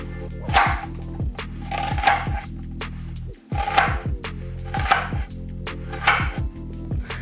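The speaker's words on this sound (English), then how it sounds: "when you cut it, it's already diced" A knife dices a vegetable on a cutting board at home while chicken lettuce wraps are being made, giving steady, close, rhythmic chops in quick repeated bursts, with a brief pause midway and no talking.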